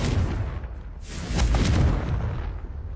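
A Confringo spell blast in Hogwarts Legacy erupts as a loud, close, sustained booming rumble with a deep roaring body that swells once more midway before easing off, no talk over it.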